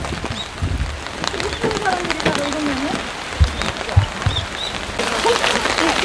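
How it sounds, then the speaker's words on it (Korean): Rain falls steadily on a mountain sweet potato field during the harvest, a constant broadband hiss with scattered heavier drops and thumps, while people talk through it. "비가 더 싸게 오네"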